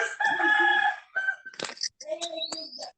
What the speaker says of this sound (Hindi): वो मुर्गा किसका है जी?